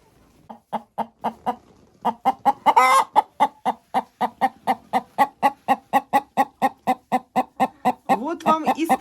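An old hen clucks in a fast, regular series of sharp clucks close by, with a couple of louder squawking calls mixed in.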